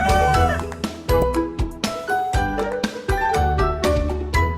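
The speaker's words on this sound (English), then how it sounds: "Rooster." A rooster crows in several loud, close calls with short breaks between them, clear and alone with no talking.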